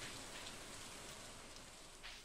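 Steady, dense rainfall in the video game Stardew Valley, hissing evenly across the whole stretch, with no voices and no distinct drops standing out.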